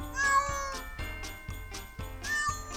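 A cat meows again and again in short, evenly spaced calls, clear and close, with a faint tinkling in the background and nobody talking.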